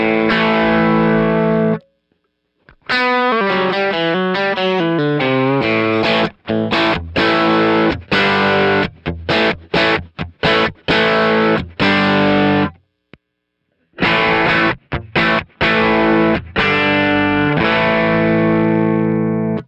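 An electric guitar played through a vintage Fender Deluxe Reverb amp, with loud, distorted chords and riffs in bursts broken by brief silences, ringing with a chorus-like shimmer throughout.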